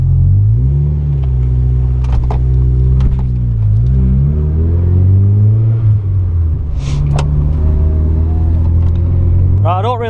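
A Mazda MX-5 Miata MK2.5 drives along with a steady engine drone that rises and falls through gear changes, loud and close from inside the cabin with no talk.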